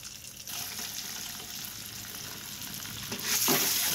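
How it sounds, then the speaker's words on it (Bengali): Eggs fry in a hot pan with a steady crackling sizzle, close and continuous. A brief splash of running water rises near the end. "ডিমগুলো সুন্দর করে ভেজে তুলে নেব।"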